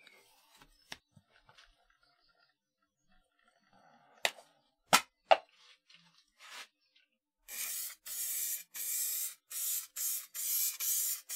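After a few scattered clicks and taps, a spray gun sprays lacquer on a wooden platter in a series of short, even hissing bursts, close and fairly loud, with brief pauses between.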